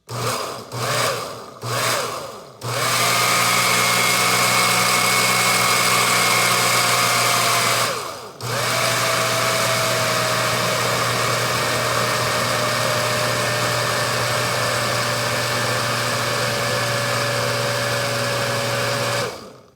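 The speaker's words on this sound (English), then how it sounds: "We're gonna blend. And I'm gonna put it on a little, just kind of mixes it up first. Put it on ice crush." Countertop blender crushing and blending nut-free vegan cheese on its ice crush setting, a few short loud pulses followed by long continuous whirring runs with a brief stop between them.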